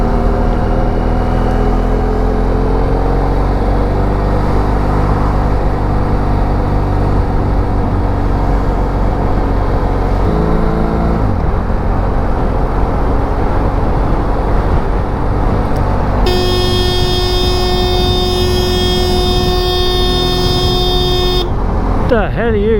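A passing car sounds its horn in a steady held blast for several seconds, loud over constant traffic and engine rumble, with an earlier lower horn-like tone and people talking nearby.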